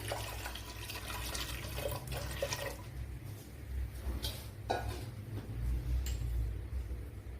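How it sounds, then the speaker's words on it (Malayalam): Water poured into a pot of green gram curry (cherupayar curry), a soft running, trickling flow with light splashes, fairly faint and continuous, without speech. "വേവാൻ ആവശ്യമായ വെള്ളം കൂടെ ചേർത്ത് കൊടുക്കുക."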